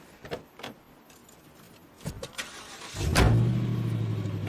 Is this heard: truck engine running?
yes